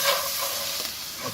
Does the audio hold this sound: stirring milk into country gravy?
yes